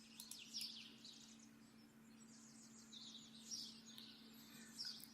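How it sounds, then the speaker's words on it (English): Birds chirping outdoors on a hike near Wardwell House, with short high tweets repeating every second or so, faint and somewhat distant over a low steady hum. "Oh, hello, birds."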